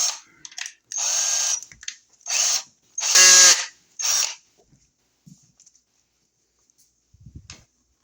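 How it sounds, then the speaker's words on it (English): Several short bursts of a power drill whirring outdoors, each lasting about a second, close by, followed by quiet handling clicks. "we're going to go outside and drill a hole with this"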